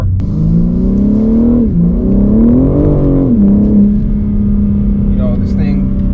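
A 2022 BMW M3 Competition G80 accelerates hard, its engine note climbing through the revs, dipping at a gear change, then holding a steady loud drone, with a person talking over it.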